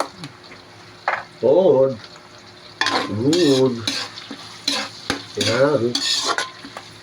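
Garlic sautés in a hot pan with a steady sizzle and stirring scrapes close by. People talk over it on and off.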